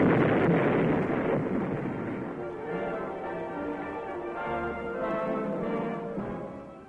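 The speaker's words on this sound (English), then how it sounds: "making use of a grappling hook and rope, the charge is properly detonated from a safe distance" A booby-trap charge built from a mortar shell, set off from a safe distance by grappling hook and rope, gives a broad rumbling blast at the start that rolls away into a long, fading, reverberant tail.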